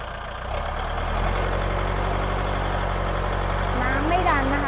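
Kubota L5018SP tractor, a 2021 model fitted with a dozer blade and disc harrow, with its diesel engine idling: a steady, close, low mechanical rumble that swells slightly in the first second, with someone talking over it.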